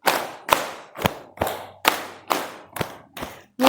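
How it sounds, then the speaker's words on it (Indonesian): A class of schoolchildren performs a concentration clap: sharp, crisp claps in a quick steady rhythm, about eight strong hits close by with no talking. "Tepuk konsentrasi."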